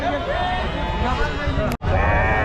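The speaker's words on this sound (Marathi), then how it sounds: "पाहू शकाल एवढे सगळे मेंढ्या असतात" Sheep and goats crowd a large livestock market, their bleats layered into a loud, dense, continuous chorus with hubbub around them, briefly cut by a sharp break before the bleating resumes.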